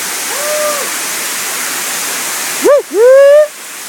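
A small waterfall on a hiking trail gives a steady loud rushing hiss throughout, with a voice speaking briefly over it near the end.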